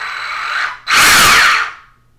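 A small electric RC car motor spins the wheels with a loud, high whine that runs for almost a second, cuts briefly, then bursts back even louder in reverse before winding down, with no talking.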